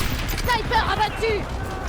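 Weapon reloading during a Battlefield 6 match on the Gibraltar map, a few metallic clicks and clacks of the mechanism amid distant battle noise and whistling effects, with a voice speaking over part of it.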